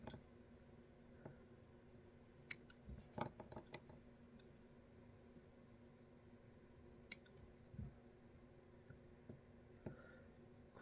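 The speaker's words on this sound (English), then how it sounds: "Clean it up with my anadromous fly company scissors here" Small fly-tying scissors trim a hair and bucktail fly, giving faint, sparse snips and clicks, a few in quick pairs, over a quiet room hum.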